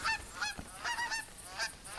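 Geese in theHunter Classic hunting game give a run of repeated nasal honks, several overlapping calls in quick succession at moderate distance.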